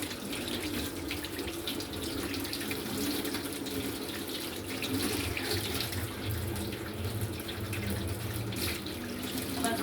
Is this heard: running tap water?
yes